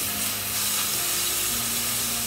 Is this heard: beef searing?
yes